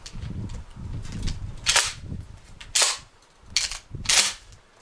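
Shotgun firing 9-pellet buckshot loads at a target outdoors, with several sharp, loud reports spaced about a second apart over steady low background rumble.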